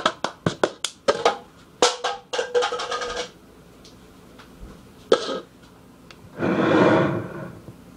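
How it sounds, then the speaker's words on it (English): A cup song rhythm played on a cup with hands: a quick run of sharp claps and taps, a second cluster of taps, a few isolated hits, then a brief scraping slide of the cup, all close and crisp with no talk. "First I'm gonna do the cup song, and then I'm gonna like say like everything like clap, tap, slap, pick up, or whatever"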